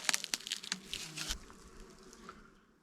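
Soft, steady honey bee buzzing close by in an opened hive during inspection, with scattered clicks and knocks early on that fade into a quieter hum.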